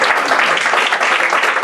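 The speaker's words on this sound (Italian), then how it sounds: "vorrei rivolgere un applauso da parte di tutti" Warm audience applause at an Italian poetry book presentation, a short burst of many hands clapping steadily, close and fairly loud.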